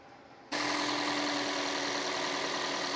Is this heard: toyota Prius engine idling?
yes